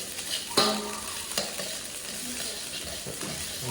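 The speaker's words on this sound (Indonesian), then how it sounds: "Meneruskan masak nasi goreng ya." Fried rice (nasi goreng) being stirred in a hot pan, a steady sizzling hiss broken by a couple of sharp scraping clanks from the spatula, close and fairly quiet with no talking.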